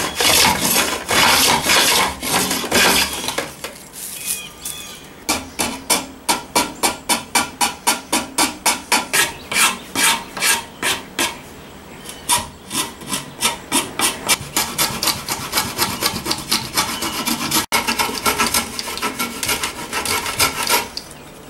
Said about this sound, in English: I'm actually gonna chamfer off all these corners here, just kind of round off the edges